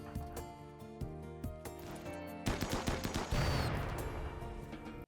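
Rapid bursts of gunfire from a RimWorld battle against a mech onslaught, with loud crackling volleys building in density and running continuously under steady background music.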